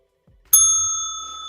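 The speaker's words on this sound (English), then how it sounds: "Gotta hit the bell when we say Twisted." A single bright bell ding struck once on a painting livestream, ringing clearly and decaying slowly, with a soft handling thump just before.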